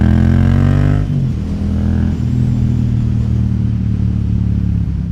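Yamaha XSR700 motorcycle engine heard from the rider's seat, a loud steady mid-pitched drone with a rev change near the start, then settling into a constant hum with road and wind noise.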